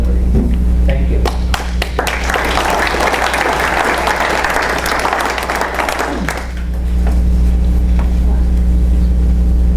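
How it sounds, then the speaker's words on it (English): Audience applause at a city debate in Ironwood, steady dense clapping for several seconds that fades out, with a low steady hum underneath. "everybody can give these ladies and gentlemen a big round of applause"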